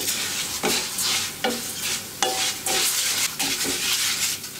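Dry orzo-shaped vermicelli toasting in a pan, stirred with a utensil in repeated scraping sweeps over a light sizzle, close and fairly loud.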